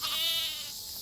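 A single short sheep bleat carries across an open alpine pasture, brief and moderately faint.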